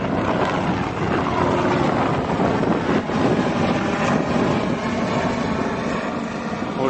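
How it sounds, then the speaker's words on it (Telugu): A helicopter flying over the mountains between Sheshnag and Panchtarni on the Amarnath Yatra route, a loud sustained rotor drone with rhythmic chopping, close overhead, no talk. "హెలికాప్టర్ చూడండి."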